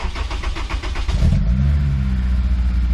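A Honda S2000 cranks with a quick starter whir, then the engine catches and revs up loudly before settling into a steady, close cold idle with no talk.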